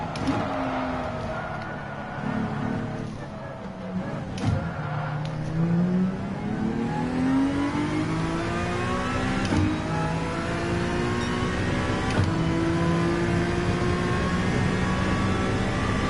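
Race car engine in Gran Turismo 7 on a lap of Spa-Francorchamps, loud and continuous, climbing in pitch through the revs with several sharp gear shifts, no talking.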